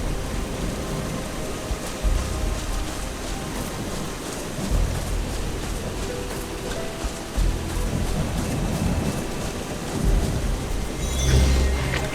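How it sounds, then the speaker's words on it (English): Heavy rain with rolling thunder in the video game Eschalon: Book II, a steady hiss of downpour broken by several deep booming rumbles at intervals, loud and with no talk. "It rains a lot in Eschalon and Misspelled."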